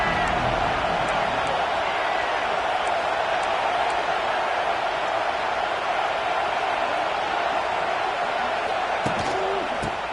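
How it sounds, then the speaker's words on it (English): A big football stadium crowd roars in a steady, dense wall of noise with no letup, loud and distant-sounding, and a few scattered sharp knocks rise above it. "This crowd ready to make its presence known."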